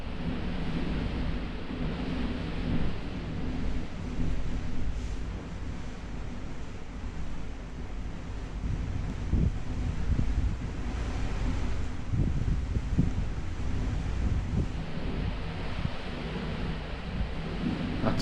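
Strong storm wind outside, heard from indoors behind a window: a steady, loud low roar with gusty surges, sustained for the whole stretch with no voices.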